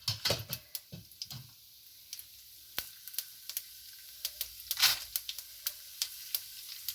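Mustard seeds and urad dal fry in hot oil as a tempering for paniyaram or kozhukkattai mix, giving a steady run of sharp crackles and pops over a soft sizzle, close and fairly quiet.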